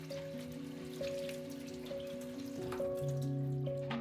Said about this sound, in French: Je les rince ici avec de l'eau du robinet parce que c'est plus simple pour la vidéo